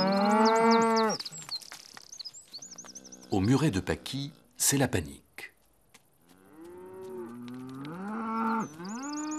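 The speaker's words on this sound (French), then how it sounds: "Un troupeau de vaches fait un raffut de tous les diables." A herd of cows moos loudly in long, bellowing calls, several overlapping close by, with a voice narrating in French between the lowing.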